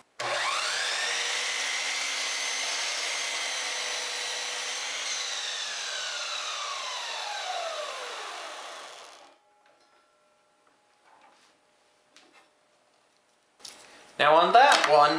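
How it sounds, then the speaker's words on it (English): A sliding compound miter saw spins up and makes a cross cut, its loud whining blade ringing steadily for about nine seconds, then dropping in pitch as it winds down, followed by quiet clicks and a short burst of handling noise. "let's try making a cross cut with the radial arm saw's distant cousin, the sliding compound miter saw"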